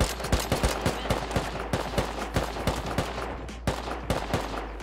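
Rapid gunfire in the survival video game Rust during a base raid, with dense bursts of loud, close shots in quick succession continuing almost without pause.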